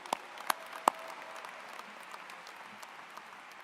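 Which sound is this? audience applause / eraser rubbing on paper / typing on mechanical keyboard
audience applause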